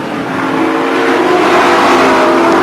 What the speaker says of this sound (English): car number 30, George Fury in the Nissan Skyline. Comes out through the S's